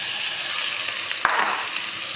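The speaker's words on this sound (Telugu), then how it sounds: "అల్లం వెల్లుల్లి పేస్ట్ వేగిన తర్వాత నేను టమాటా పేస్ట్ వేసుకుంటున్నాను." Tomato paste frying in oil with ginger garlic paste, a steady close hiss and sizzle throughout with a brief stir or clatter near the middle.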